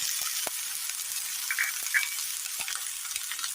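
Chopped shallots frying in oil in a pan make a steady, dense sizzle throughout, with a few faint clicks and taps from the pan under it and no one talking.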